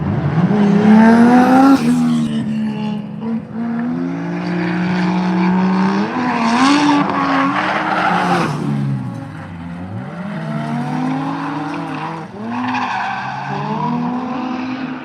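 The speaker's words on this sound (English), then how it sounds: "That's Rockas Peterson drifting it like a boss on the shale," A drift car skids sideways on a shale surface at the Ebisu Minami circuit, its engine revving hard with bursts of tire squeal, loud and close and continuous throughout.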